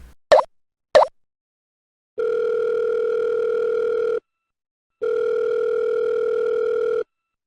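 Telephone call sound effect: two short dial clicks, then two long steady ringback tones separated by a gap, loud and alone with no voices.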